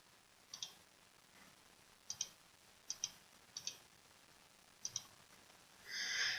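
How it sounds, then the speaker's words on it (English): Sharp double clicks of a computer mouse button, five pairs spaced irregularly and close up in a quiet room, followed by a brief burst of soft noise at the end. "selecting that category and right-clicking for those options"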